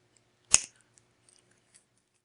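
A single sharp snip as jewelry wire is cut off with pliers or cutters, a short crisp click close to the microphone in an otherwise quiet room, followed by faint handling ticks.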